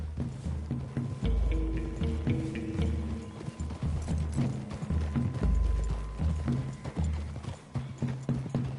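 Horse hooves clip-clopping steadily in Red Dead Redemption 2 on PS5 as riders move through trees toward a clearing, loud and continuous with several horses, a brief whinny and creaking tack.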